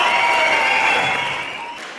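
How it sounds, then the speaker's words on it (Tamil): A brief burst of loud, dense applause from a crowd at a business celebration event, beginning to fade toward the end. "பலத்த கரகோஷம்"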